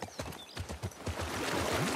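Horse hooves clip-clop in The Last of Us Part II, a run of close, evenly paced thuds on the ground that give way to a rising wash of ambient noise.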